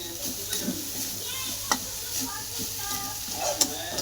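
Dried shrimp (sukat) chutney sautéing and being stirred in a pan, a steady soft sizzle with faint scraping strokes and a few sharp clicks of the spatula against the pan, close by.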